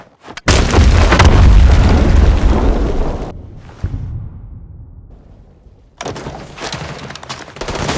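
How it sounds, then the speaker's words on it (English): Bombs exploding in the S.T.A.L.K.E.R. video game: a loud, heavy blast rumbles for about three seconds, fades into a low distant roll, then a second burst of rumbling explosions follows. "Bombs are going off."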